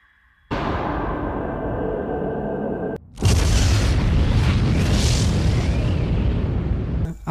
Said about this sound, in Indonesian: Akhirnya Gans meledak.